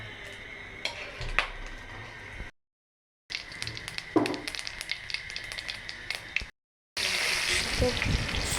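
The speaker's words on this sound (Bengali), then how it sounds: "কড়াইতে তেল গরম করে আবার পেঁয়াজ দিয়ে দিলাম, পেঁয়াজ কাঁচামরিচ।" Onion and green chilli sizzle in hot oil in a wok, a steady frying hiss broken by short gaps, with occasional clinks of a utensil against the pan.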